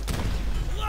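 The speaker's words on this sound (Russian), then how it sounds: "задолбали гранатами закидывать" A loud, close grenade blast booms in Call of Duty: World at War, a single heavy burst with rumbling low end and a short whistling tail.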